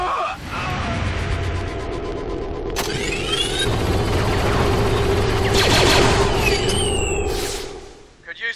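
Sustained rapid gunfire from XCOM 2 fills the mix, dense bursts of automatic fire and shots layered over game noise, loud and continuous for several seconds before tapering off at the end.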